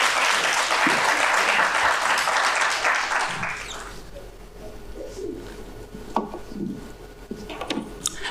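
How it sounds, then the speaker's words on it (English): A conference audience claps loudly for a speaker invited onto the stage at a career-growth event; the dense applause lasts about four seconds, then fades into quieter room noise with a few scattered sounds. "Give her a round of applause."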